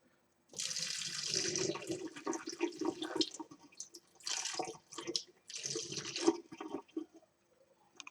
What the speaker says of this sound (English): Pour off the excess beer off the top.